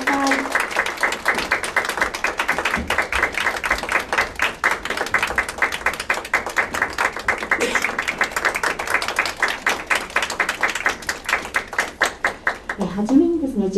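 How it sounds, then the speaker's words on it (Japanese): An audience at a media arts festival talk event applauds to welcome guests onto the stage, a dense, sustained clapping that carries on steadily before fading out near the end. "皆様大きな拍手でお迎えください"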